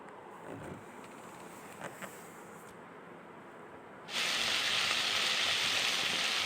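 Onion frying in a pan for a potato masala alongside tomato, green chilli, ginger and garlic: a steady, loud broadband sizzle that bursts in abruptly partway through after quieter, faint kitchen background.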